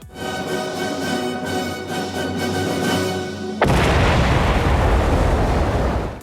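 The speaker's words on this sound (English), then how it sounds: "it ended up nosediving into a field and exploding" A homemade rocket built from a Reliant car nosedives into a field and explodes. A loud droning roar runs for several seconds, then gives way to a sudden louder, broad, rumbling blast that carries on to the end.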